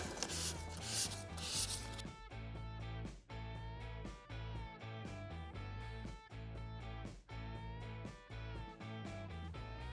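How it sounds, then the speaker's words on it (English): Steady rhythmic rubbing of fine 600-grit sanding on a curb-rashed wheel lip, repeated strokes at an even pace, close up, with no voices. "It's now time to step it up to the 600 grit and, well, get back to sanding."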